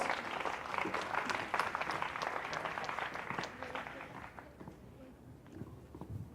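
Applause from a quiz audience at a national final, a dense patter of clapping that fades gradually over the clip, with some voices mixed in.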